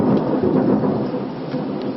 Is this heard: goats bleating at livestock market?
no